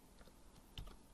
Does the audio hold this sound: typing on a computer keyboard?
yes